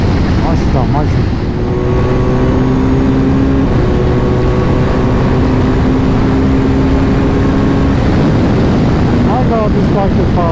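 Engine of a BMW R1250GS Adventure motorcycle droning steadily while riding, with wind rush throughout and steady engine tones shifting in pitch; a voice speaks excitedly over it near the start and end.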